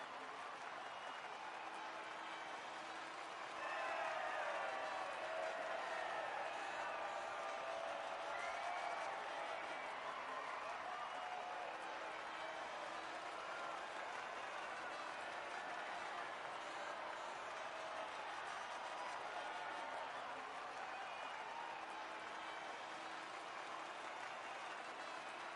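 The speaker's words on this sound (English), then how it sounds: "the reaction from the crowd must be incredibly uplifting for them" Crowd cheering and applauding at the podium after a Formula 1 race in F1 23, a steady dense roar with clapping that swells after a few seconds and holds throughout, with commentary voices faintly underneath.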